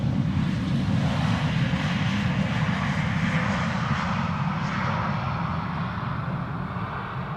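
An Embraer 190 airliner at Schiphol Airport gives a loud, close, continuous jet engine roar that fades slightly toward the end, with no one talking.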